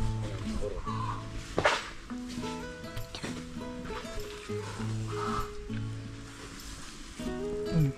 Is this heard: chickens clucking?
yes